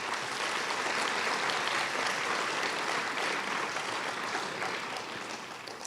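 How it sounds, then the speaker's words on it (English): Sustained audience applause at a Martin Luther King Jr. Day celebration event, honoring a song written for the occasion; dense, steady clapping from a large crowd, loud and continuous, tapering slightly at the end. "So give them another round of applause,"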